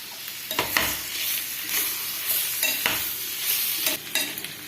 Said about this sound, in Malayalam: ഇനി നാരങ്ങ കട്ട് ചെയ്ത് വെച്ചത് ഇട്ടു.